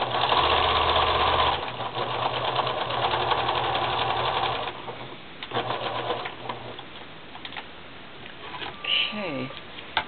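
A sewing machine stitches lace and a doily onto a glue-backed book page, its steady motor hum running loud for several seconds, then stopping and restarting in shorter bursts as a voice talks.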